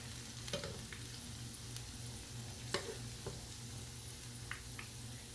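Okra and onion pakoras frying in hot oil, with a steady close bubbling sizzle and a few sharp ticks and pops, fairly quiet, with no talking.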